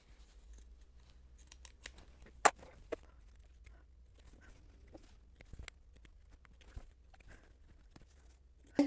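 Scissors clip the corners of a sewn fabric tea wallet, a series of small sharp snips with quiet pauses between them, close by and fairly soft.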